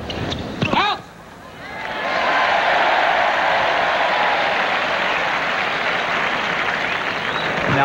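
A tennis crowd bursts into sustained applause and cheering after a brief pause, loud and steady, with a few voices audible at the start.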